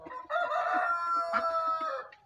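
A rooster crows once in a long, drawn-out call among hens kept for sale on a farm, with soft clucks underneath and no talking.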